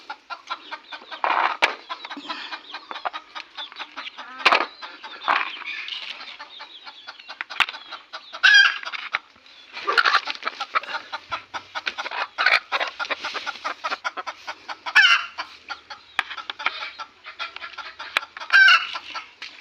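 Desi (native village) hens clucking repeatedly nearby in short bursts, with occasional louder squawks breaking through the chatter of the flock.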